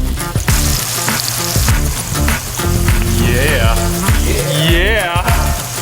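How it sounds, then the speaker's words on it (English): Seasoned meat frying in a pan outdoors, a loud close sizzle with crackling pops and scraping stir noises, continuous for several seconds. "frying it right, leaving it pink in the middle and not overcooking it"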